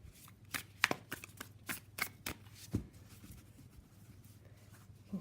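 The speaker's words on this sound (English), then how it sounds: "it shuffles quite smoothly." Tarot cards shuffled by hand, a quick run of crisp slapping taps and light flutters followed by softer sliding, close and quiet with no talk.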